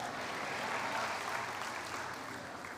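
Applause from a church congregation during a sermon, steady and moderately loud clapping that fills the short moment without talk.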